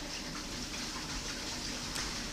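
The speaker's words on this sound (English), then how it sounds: "We're passing a waterfall right now." A waterfall passed on a journey gives a steady, dense rush of falling water, broad and constant with no voices over it.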